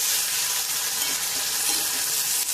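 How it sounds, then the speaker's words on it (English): Ginger garlic paste fries in hot oil in a pan, a loud, steady close sizzle with crackling bursts, alone without talk. "Now then I will be frying this ginger garlic paste till it loses its rawness"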